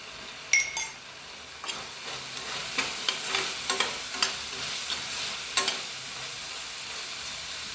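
Onions sizzle and fry in a pan with turmeric powder and half a spoon of garam masala, with steady close sizzling broken by several sharp stirring scrapes and clinks of a spoon.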